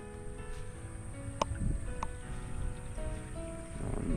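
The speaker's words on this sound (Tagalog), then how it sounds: "Ayun na po yung motor" A small motor, likely a farm engine, runs steadily beside a rice paddy in a rural Filipino setting, a continuous low drone with faint water and ambient noise and a couple of brief clicks.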